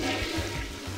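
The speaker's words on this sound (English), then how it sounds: "I went in to flush a toilet." A toilet flushes in a restroom in the video game Persona. The loud, rushing whoosh of water is close and fills the whole brief moment with no speech.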